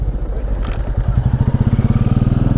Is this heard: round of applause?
no